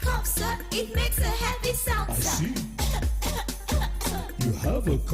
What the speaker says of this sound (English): Anytime I cough, sir, it makes a heavy sound